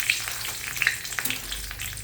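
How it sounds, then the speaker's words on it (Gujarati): Curry leaves crackle and fry in hot oil after the gas is switched off, a short, close, steady sizzle with small pops. "ગેસ અને લીમડીને તળાતા વાર ના લાગે"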